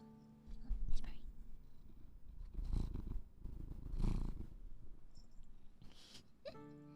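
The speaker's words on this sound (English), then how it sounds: "He's purring." A pet cat purrs close up with a soft, continuous rumble. Faint whispery sounds and brief noises lie over it.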